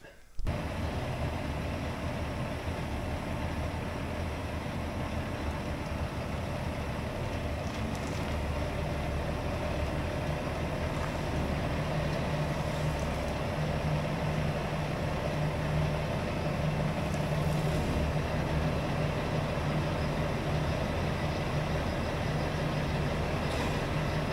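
A blue Peterbilt RV hauler truck moving slowly into a parking spot, its diesel engine giving a steady, loud, low drone that holds throughout with little change.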